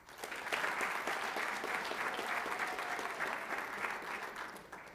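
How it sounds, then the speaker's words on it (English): An audience at a school district governing board meeting claps for honored teachers and their families, a steady burst of applause that swells quickly, holds for several seconds and begins to fade, moderately distant and without talking. "Please give these very special teachers and their families a big round of applause."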